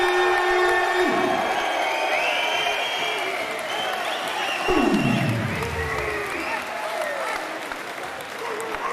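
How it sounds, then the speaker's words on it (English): A fight-night crowd in an auditorium applauds after a UK MMA bout, a sustained mass of clapping with scattered cheers and whoops, while an announcer's amplified voice booms over it. "Sami giving a respectful round of applause"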